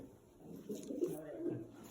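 Pigeons coo softly nearby, a few low rolling calls in quick succession against a quiet background.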